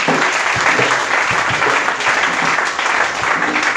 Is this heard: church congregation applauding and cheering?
yes